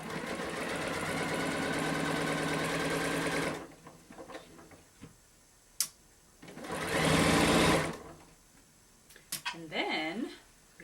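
Sewing machine stitching quilt binding, a close, steady mechanical whirr for a few seconds, then a pause with small handling clicks and a second short burst of stitching; a voice speaks near the end.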